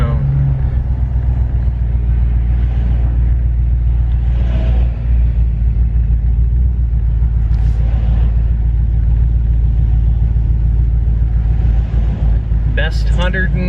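A truck with a Hemi 5.7l engine and loud exhaust cruising, its deep rumbling drone continuous and close throughout, with brief swells as it revs and a few clicks near the end.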